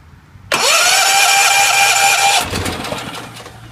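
A Generac XG8000E portable generator running on natural gas starts abruptly with a sharp catch, then roars loudly and steadily with a high whine before dropping off and sputtering down after about two seconds.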